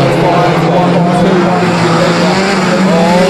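Banger racing cars roar around Stansted Raceway during a full-contact heat, a loud continuous engine drone with tires rumbling, heard under an excited commentator talking over the action.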